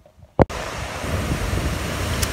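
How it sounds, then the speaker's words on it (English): Strong wind from Storm Ali buffets the microphone outdoors, a steady low roar after a brief thump at the start, with no voices. "blinking windy out there, I tell you"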